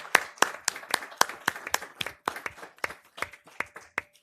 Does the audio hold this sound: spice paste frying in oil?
no